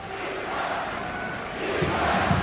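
Iceland supporters roar in the stadium during a Nations League match against Wales, a dense, continuous crowd noise that swells louder toward the end, with faint commentary beneath.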